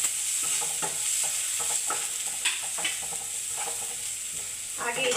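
Garlic and onion fry in a pan with a steady close sizzle, broken by frequent spatula scrapes and stirring knocks throughout, with no talking.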